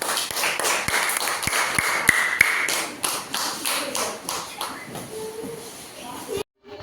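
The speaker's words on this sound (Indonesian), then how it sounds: "Tepuk tangan untuk kelompok 2." A classroom of schoolchildren claps for a group's handmade trash bin, the claps scattered and uneven, fairly close, with children's chatter mixed in before the claps taper off and stop abruptly.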